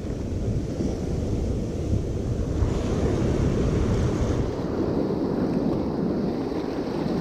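Ocean surf rolls onto the shore south of Lima, Peru, a steady, dense wash of breaking waves with some wind buffeting the microphone and no voices.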